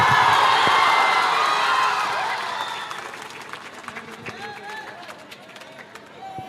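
A crowd at the prize ceremony for a village-level knockout cricket final applauds and cheers to welcome a leader, loud at first, then thinning into scattered claps and background voices.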